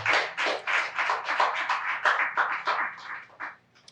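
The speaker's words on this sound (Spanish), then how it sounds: "Denle un aplauso al Señor." A church congregation applauds with quick, scattered hand claps that gradually thin out and fade to silence.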